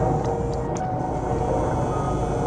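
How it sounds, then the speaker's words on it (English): Helicopters flying overhead near a wildfire, heard as a steady, broad mechanical drone that holds at a constant level for the whole stretch, with no clear blade chop standing out. "Lots of helicopters, man."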